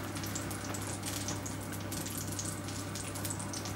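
Meat sizzles in a hot pan, a faint, steady crackle with scattered sputters over a low constant hum, with no voices.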